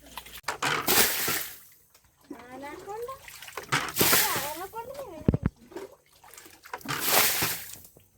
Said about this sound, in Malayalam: ഇവിടെ നമുക്ക് കുറച്ചുകൂടി വെള്ളം കോരി കളഞ്ഞാലോ